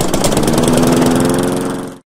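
A lawn mower engine runs at a steady, loud mid-pitched drone for about two seconds, then cuts off abruptly, with no voices.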